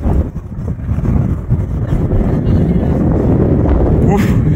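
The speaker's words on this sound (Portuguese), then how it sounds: "O vento aqui é forte demais." Strong wind in the Andes mountains at Portillo, a loud, continuous low roar buffeting the microphone throughout, close and heavy, with no clear speech.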